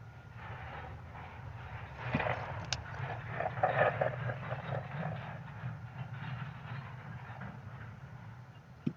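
A train in a train simulator video game, on the London Kings Cross to Doncaster route, rumbles steadily at moderate volume, with occasional clacks and a brief metallic ring over a continuous low engine drone.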